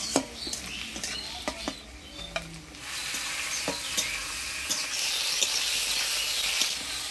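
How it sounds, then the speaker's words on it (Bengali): Chopped onion and tomato fry in a pan with whole spices as a spoon stirs them, a steady close sizzle with scattered sharp scrapes and taps of the spoon, the frying growing louder partway through, no talk. "পেঁয়াজটা হালকা লাল লাল হয়ে আসছে, এবার দিয়ে দেবো টমেটো কুচি"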